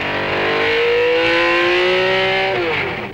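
A 1972 race car accelerates on the Targa Florio mountain road, its engine note climbing steadily in a loud, close, continuous rev before easing off at the end.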